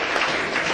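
Audience applause at a Hindi Divas poetry gathering, a brief steady wash of many hands clapping, fairly loud and close.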